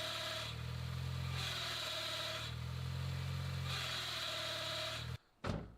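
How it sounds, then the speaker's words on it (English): A Mini Cooper with 123,000 miles has a clutch fault, and pressing the clutch pedal brings a rhythmic, pulsing mechanical drone over the running engine. It repeats in regular waves, then cuts off abruptly near the end. "when I press the left pedal, the clutch, it sounds like this."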